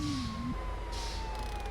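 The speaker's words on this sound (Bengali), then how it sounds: "অ্যাম্বুলেন্সটা রয়েছে, একটু অ্যাম্বুলেন্সটাকে আগে সাইড করে দিই" An ambulance siren in a bus driving video game wails with a falling tone, moderately loud over a low engine rumble, steady through the short stretch with no talk.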